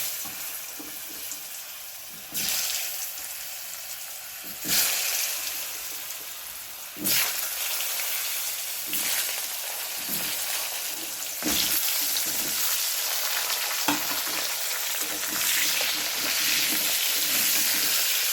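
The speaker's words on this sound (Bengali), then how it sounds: "এখন আলু ভাজবো আলুগুলো দিয়ে দিচ্ছি" Potatoes frying in oil in a pan for rui fish kalia make a loud, continuous hiss that flares in sharp bursts as pieces go in or are turned. No voices are heard.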